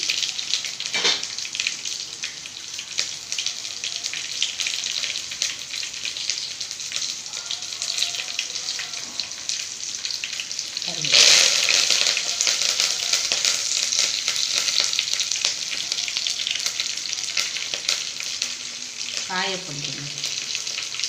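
Onions frying with mustard seeds in a hot oil tempering, a steady loud sizzle throughout with a brief burst of crackle midway and occasional stirring scrapes.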